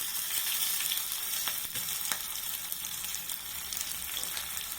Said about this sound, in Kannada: ಹಾಗೆ ಸ್ವಲ್ಪ ಈರುಳ್ಳಿ ಹಾಕ್ಕೊತಾ ಇದ್ದೀನಿ. ಒಗ್ಗರಣೆಗೆ ಅಷ್ಟು ಈರುಳ್ಳಿ.